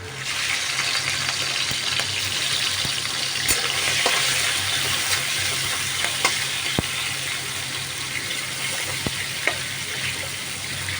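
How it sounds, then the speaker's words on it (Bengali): Prawns sizzle and fry in a wok while a spatula chops and scrapes through them, giving a steady loud crackle broken by sharp metallic taps and clicks, with no talking. "চিংড়ি মাছগুলো আমি কড়াইতে দিয়ে ও কড়াইয়ের মধ্যেই খুন্তি দিয়ে কেটে কেটে নেবো"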